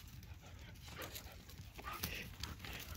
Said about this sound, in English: Look at this dog fight, y'all.